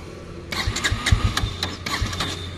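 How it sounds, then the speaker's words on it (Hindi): Bajaj Pulsar N160 motorcycle with a starter being cranked in short repeated bursts, the engine sputtering and catching briefly without settling into an idle, loud and close. "पेट्रोल डालने से पहले आपको एक बार बाइक स्टार्ट करके दिखा रहा हूं"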